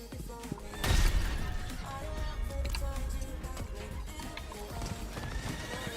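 A horse in the Diablo 4 video game clip-clops steadily at close range, with a sharp whinny and a heavy thud near the start.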